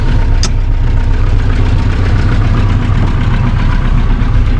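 A 1980 IZh Kombi car engine idles steadily with a low, continuous rumble, close and loud, with one short sharp click near the start and no talking.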